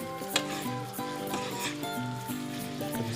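Spaghetti carbonara in a heated frying pan, a soft sizzle with clinking utensil-on-pan stirring sounds beneath tonal music, fairly quiet throughout.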